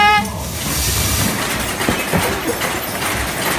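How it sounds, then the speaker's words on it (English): On Earthquake: The Ride in Gatlinburg, Tennessee, a simulated train rushes straight at riders with a loud, dense, continuous rumbling roar, opening with a brief tonal horn-like blare. "there's a train coming right at us"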